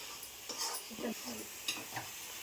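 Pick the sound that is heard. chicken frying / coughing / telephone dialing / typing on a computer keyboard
chicken frying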